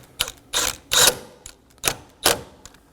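A hand ratchet tightens the battery hold-down nut on a 2015-2023 Nissan Maxima. It makes six short bursts of close metallic clicking in an uneven rhythm.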